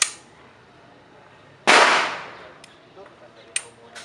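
A single sharp gunshot cracks at an outdoor firing range, loud and close, with a decaying echo trailing behind it and a few fainter distant shots following.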